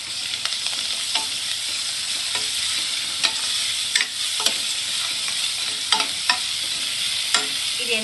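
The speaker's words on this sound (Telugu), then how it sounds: "అల్లం పేస్ట్ కూడా వేసేస్తున్నా. అల్లం పేస్ట్ కూడా వేగనిచ్చి" Ginger paste fries in a pan, giving a steady loud sizzle with scattered sharp pops and scrapes from stirring, close up and with no speech.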